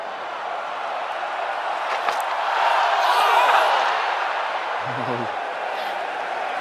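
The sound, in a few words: cricket stadium crowd noise, England v India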